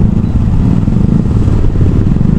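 Heavy roadside traffic of big trucks and motorcycles inside the PEZA zone in Cavite, after rain: a loud, continuous low engine rumble with clattering, close and steady throughout.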